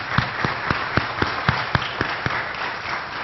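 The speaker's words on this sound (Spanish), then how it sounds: "Un fuerte aplauso a la primera bautizada." Applause from a church conference crowd, with a steady wash of clapping and sharper claps standing out at a regular rhythm, no voices.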